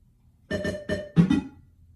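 A 1979 Gottlieb System 1 pinball machine sounds a short electronic coin-up jingle of several quick, bright tonal blips, fairly loud and close, with no voices.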